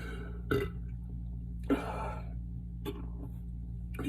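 A man burps repeatedly after drinking orange juice, three or four short throaty belches spaced over a few seconds against a steady low hum, close to the listener.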